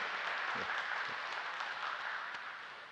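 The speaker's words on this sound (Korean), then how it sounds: "우리 잠깐 박수 한번 하겠습니다." A church congregation applauds steadily during a Sunday service, a dense wash of clapping that slowly fades toward the end.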